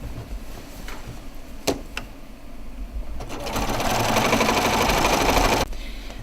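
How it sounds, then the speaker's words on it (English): Sewing machine stitching quilt binding back down, running in a fast steady whir for a couple of seconds after a few soft knocks and clicks, then stopping abruptly. "Just start stitching your binding back down again."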